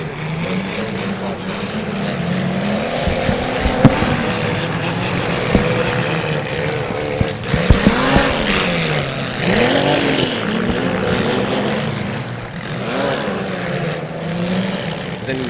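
Demolition derby cars rev their engines loudly at a track, rising and falling in pitch while scattered thumps of impacts sound, with some talk mixed in.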